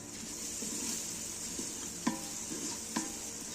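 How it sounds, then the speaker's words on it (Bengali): Onions frying in mustard oil with salt, stirred in a pan: a soft steady sizzle with a few sharp scrapes and taps of the spoon, close by and fairly quiet. "তারপরে কিছু সময় নাড়াচাড়া করব।"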